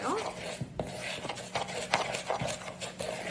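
A utensil stirs ingredients for an old-fashioned peanut butter cake in a bowl, making close, irregular scraping strokes and light clinks that repeat steadily for a few seconds.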